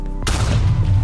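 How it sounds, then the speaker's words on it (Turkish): A TNT block detonates in Minecraft, a sudden loud broadband blast at about a quarter second that rolls into a sustained, rumbling roar with heavy low-end boom, in a mod billed as the most realistic version of the game. "TNT bayağı güzel patladı."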